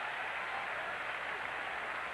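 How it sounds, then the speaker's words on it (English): A large baseball crowd at Fenway Park gives a steady, distant roar and buzz with the bases loaded, a continuous wash of cheering and murmur with no individual voices standing out. "This Fenway crowd starting to come alive."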